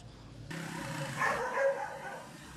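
Stray dogs barking in the streets of a city, a few sharp barks rising over a steady background hum and street noise, moderately close.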